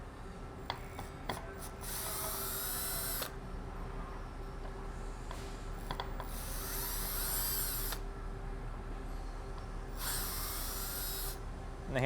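Handle screws come out of a Jarvis 404 electric reciprocating breaking saw under a power driver: three separate bursts of high, whirring spin, each a second or two long, over a faint steady background hum.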